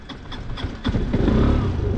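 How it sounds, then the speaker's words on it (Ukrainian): Suzuki Address V125 scooter engine idling at low revs with a misfiring spark plug that makes it prone to stalling, a steady low rumble that grows louder and rougher in the second half. "щось глохне при таких маленьких е, холостих обертах"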